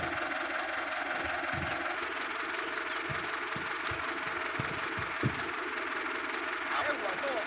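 A plowing tractor's engine runs steadily at a low, mid-pitched rumble, heard close with faint knocks and clanks over it and speech mixed in throughout.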